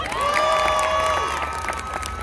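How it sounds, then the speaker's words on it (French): Crowd at Disneyland Paris applauding and cheering a special-effects crew member at the closing of the Armageddon attraction, a dense continuous wash of clapping with a sustained musical tone running over it. "Applaudissements pour Clément."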